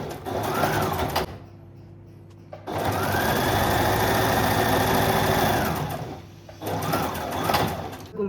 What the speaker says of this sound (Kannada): ಫಸ್ಟು ಈಗ ಶೋಲ್ಡರ್ನ 1/2 ಇಂಚಿಗೆ ಸ್ಟಿಚ್ ಮಾಡ್ಕೊತಿದ್ದೀನಿ.